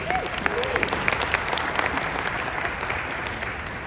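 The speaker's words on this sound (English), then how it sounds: "let's have a round of applause for the panelists" Applause for the panelists at a Calgary panel discussion, a steady crowd of hands clapping at moderate loudness throughout, with a brief voice sound early on.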